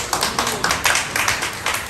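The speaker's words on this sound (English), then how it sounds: "Big round of applause." People at a medical records symposium clap together in a room, a brisk, fairly close patter of hands with irregular accents, no talking over it.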